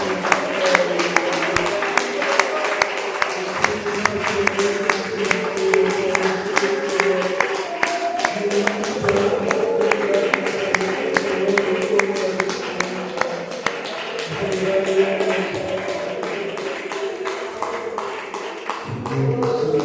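A church congregation applauds in sustained clapping, dense and steady throughout with a lively crowd texture under it.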